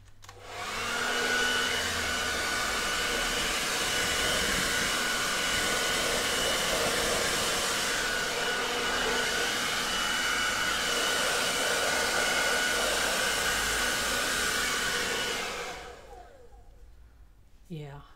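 A hair-dryer-style blower pushing air over freshly poured resin, a loud, steady whoosh that runs unbroken for about fifteen seconds before cutting off abruptly.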